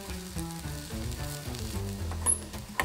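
Onion frying in a pan gives a steady, close crackling sizzle throughout, with a couple of small pops near the end and no voices.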